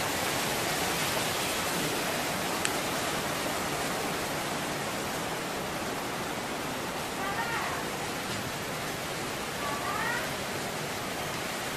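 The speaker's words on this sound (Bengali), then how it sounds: "আমাদের বাড়ির ছাদ থেকে যে বৃষ্টির দৃশ্য," Rain falls around a house rooftop surrounded by trees. It makes a steady, even hiss that does not let up, with no clear voices over it.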